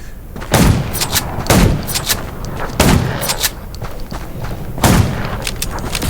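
Loud, punchy video game gunshots fire in an uneven series, about a half-dozen heavy blasts with lighter cracks between them, close and booming, in a zombie survival game.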